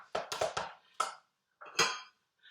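A utensil stirs ground black pepper in a cooking pot, making a quick run of clinks and scrapes followed by a few separate metallic knocks, fairly close and alone.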